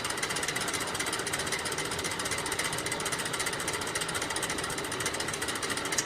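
A centrifugal casting machine spins a flask of molten sterling silver, giving a steady, loud mechanical whir and rattle that holds evenly throughout with no pauses.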